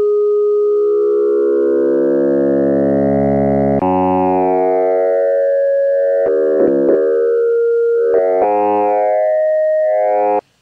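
Roland System-8 synthesizer playing a pure sine-wave oscillator tone, a loud steady note that glides and sweeps in pitch, with a few abrupt jumps and short stutters before cutting off suddenly.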